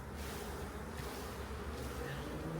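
Honey bees buzzing at a hive frame during a swarm-cell inspection and split, a dense steady hum that is fairly faint and continuous, with no talk over it.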